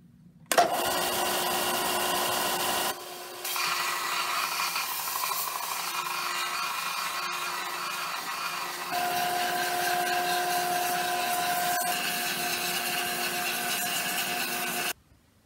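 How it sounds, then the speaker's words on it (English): A belt sander grinds down the top of a wooden pole into a point, a steady, loud, close abrasive hum with faint tones that starts abruptly, dips briefly near the start, then runs evenly until it cuts off. "I'm going to go to the belt sander, and I'm going to sand down this top part right here and make it a little bit smaller"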